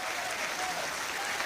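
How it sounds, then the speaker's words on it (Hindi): A crowd at a devotional gathering honouring Hanuman and Ram bursts into sustained, dense applause, steady and fairly distant, with no break over the short stretch. "एक बार तालियां अच्छी उठा दें।"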